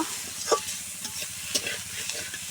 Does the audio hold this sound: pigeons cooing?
no